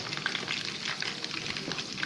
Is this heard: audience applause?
no